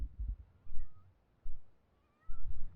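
A cat meows several times in short bursts, close by, with quiet pauses between calls.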